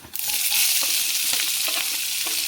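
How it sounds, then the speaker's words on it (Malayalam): Washed, finely chopped onion dropped into hot oil in a pan, a loud bright sizzle bursting up at once and holding steady, with a few stirring scrapes toward the end. "നമുക്ക് സവാള അരിഞ്ഞത് ഇതിൻ്റെ അകത്ത് ഇട്ടെടുക്കാം"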